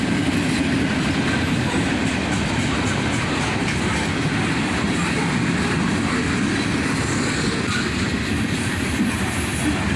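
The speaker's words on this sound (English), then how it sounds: "the end of the train finally went by" CSX freight train cars rolling past at close range, a loud continuous rumble with rhythmic clickety-clack of wheels over rail joints and faint wheel squeal, no voices.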